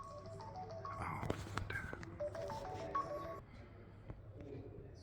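A mobile phone rings inside St Martin's within Ludgate church in London, playing a faint melodic ringtone alongside quiet, muffled voices.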